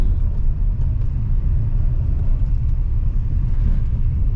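A black Tata Safari SUV drives through a village with a steady, loud low engine and road rumble close by, continuous and with no voices.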